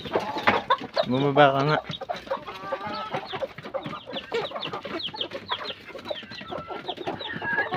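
Chickens cluck repeatedly at close range on a small backyard farm where a hen has just hatched a new brood of chicks, the fowl calls running steadily throughout with a person talking over them.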